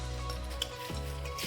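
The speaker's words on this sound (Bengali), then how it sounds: "এবার এখানে ভাজাভাজি চলছে" Chop and onion fritters fry in hot oil for a Ramadan iftar, giving a steady, close sizzle with a constant hiss and a few faint clinks, no voices.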